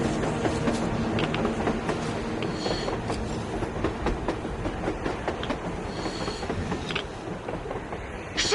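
A train passes on the surface in the video game Metro Exodus, a loud, continuous rolling clatter of wheels on rails with rhythmic clicks and faint metallic squeals throughout.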